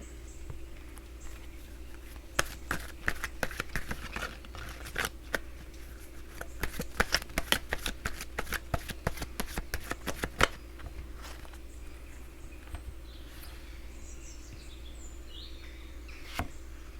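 Tarot or oracle cards are shuffled by hand in a quiet room, a run of crisp riffling snaps and clicks for several seconds, then a last isolated flick before quiet.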